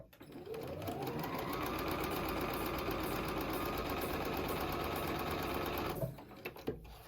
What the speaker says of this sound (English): I'm going to sew on that line